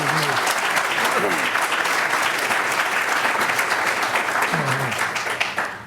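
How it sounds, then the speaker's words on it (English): Sustained audience applause for Arturo Madrid at a heritage lecture, a dense wash of clapping that holds steady throughout, with a voice breaking through briefly at the start and again near the end. "I'd like us to give him a round of applause for that great contribution"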